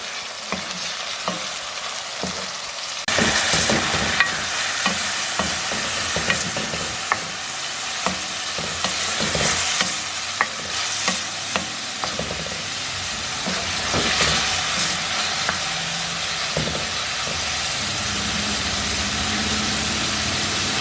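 Minced meat (qeema) frying in a pan with steady sizzling and hissing, broken up by frequent scraping and clattering stirs of a spoon against the pan, close and fairly loud throughout, no voices.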